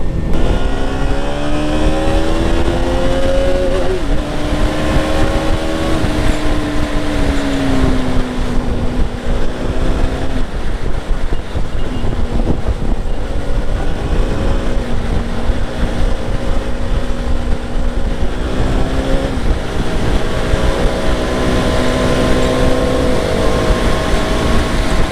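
A KTM RC 200 motorcycle accelerates hard through its gears, the engine note climbing in pitch, dropping at each shift and climbing again several times, loud and close with steady road noise and no talk.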